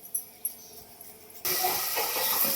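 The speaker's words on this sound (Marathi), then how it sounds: "आता फोडणी देऊन घेते." Mustard-seed tempering hits a black-chili masala amti with an abrupt, loud sizzle that bursts in after a quiet stretch of a few soft knocks and then hisses on steadily, close to the mic.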